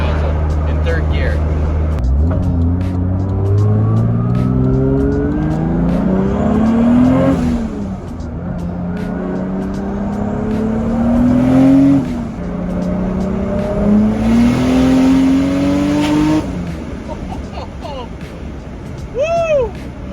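A big-turbo Toyota Supra in third gear revs from low to high RPM in several long rising pulls, the engine note climbing and dropping between them, loud and close, with turbo whistle and flutter near the end.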